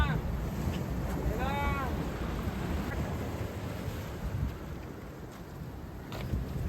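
Ocean waves washing over a rocky beach at night in the rain, a continuous rough roar of surf and wind buffeting the microphone, with a voice calling out briefly in the background.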